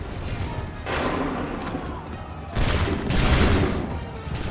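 Massed musket volleys crack out in a Revolutionary-era battle in Assassin's Creed 3, a dense rolling burst of gunfire that swells, eases, then erupts again in a louder, closer second volley.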